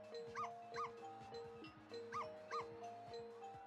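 A remote-controlled toy dog gives repeated electronic barks and yips in a steady rhythm, fairly close and clear, with a mechanical, synthetic tone over a faint background.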